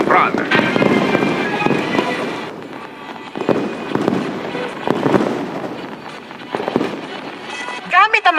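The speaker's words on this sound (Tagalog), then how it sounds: "Gamit ang mga drone at fireworks, ganito ka-ingrande ang naging salubong ng Ras Al Khaimah sa UAE sa pagpasok ng bagong taon" A New Year fireworks display in Ras Al Khaimah, UAE, with drones overhead, gives repeated booming bursts and crackles in irregular clusters, distant and echoing across an open setting.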